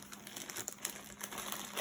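Plastic packaging around a roll of clear vinyl transfer tape crinkles steadily and close up during unboxing, a continuous soft rustle that swells slightly at the end.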